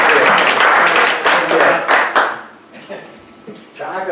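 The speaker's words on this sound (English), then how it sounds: "I just wanna give you a round of applause" People at a town board meeting applaud Jim, a loud burst of clapping that fades after a couple of seconds, followed by quieter room sounds and a voice starting to speak.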